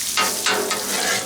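Beef, mushrooms, peppers and onions fry on a Blackstone griddle for cheesesteaks, a steady close sizzle with a few brief scraping swells and no talking.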